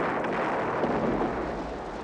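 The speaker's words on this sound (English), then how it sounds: "This is also where they blew up the two jets from the Wolverines and they threw the grenade inside." Loud, sustained explosive roar from film scenes in Red Dawn where two jets are blown up, a dense continuous blast rumble filling the whole moment without a break.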